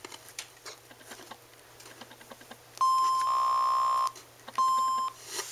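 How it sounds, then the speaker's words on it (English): A Kohler Moxie showerhead speaker gives a long steady beep followed by a shorter one as it connects to an iPhone, loud and close, after a stretch of light tapping and shuffling noises. "And you hear that beep."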